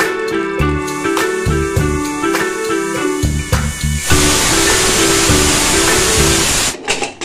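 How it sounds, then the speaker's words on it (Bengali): A pressure cooker on the stove, cooking meat, lets out a loud, steady rush of hissing steam for a few seconds after a stretch of tonal background music. "এবার প্রেসার কুকারে সিটি দিয়ে দিয়েছে।"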